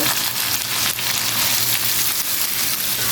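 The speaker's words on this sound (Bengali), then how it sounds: "এখন এই পেঁয়াজটা আমি এই তেলটার মধ্যেই ভালোভাবে ভাজবো।" Four chopped onions fry in hot oil for an Arabian-style beef kebab dish, giving a loud, even, continuous sizzle close up with no talking.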